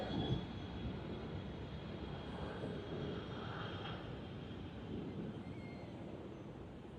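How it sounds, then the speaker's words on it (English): An Air Canada Boeing 777-200LR arriving from Vancouver onto runway 34L at Sydney Airport, a low, steady, distant jet roar that holds evenly throughout. "We have Air Canada arrival from Vancouver on its Boeing 777-200 LR. You're arriving on runway 34L."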